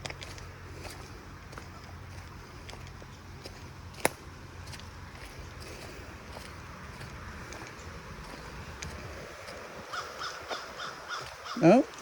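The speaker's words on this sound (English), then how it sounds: "Oh, we got a bird calling." A bird calls outdoors, with a few sharp calls near the end over quiet ambient noise and faint scattered clicks and footsteps.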